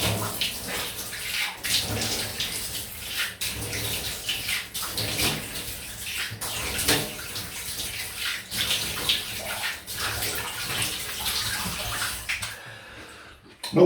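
Tap water runs steadily into a basin as a face is rinsed after a shave, a continuous splashing stream with uneven surges and little drips, ending abruptly near the close.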